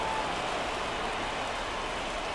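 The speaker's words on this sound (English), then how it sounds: "This rain is not letting up." Steady rain falls across an open baseball stadium during a Yankees–Pirates game, a continuous even hiss of drops with no breaks and no voices over it.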